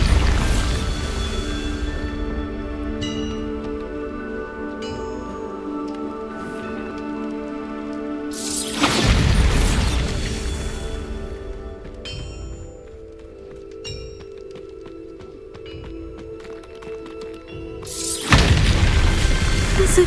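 Booming spell blasts in the video game Hogwarts Legacy: two loud broadband bursts mid-clip and near the end, set over a bed of game music and ambience.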